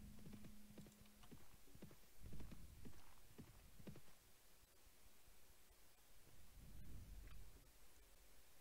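Hooves of a ridden horse in the video game Mount & Blade Warband, a series of clip-clop beats in uneven bursts over a steady hiss of background noise, moderately close, with no talking.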